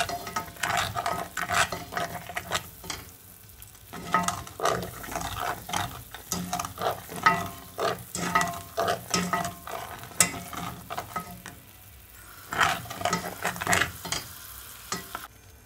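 Sugar melting into caramel sauce in a pan, heard as a faint sizzle with repeated scraping and stirring strokes in an irregular rhythm, pausing briefly before resuming.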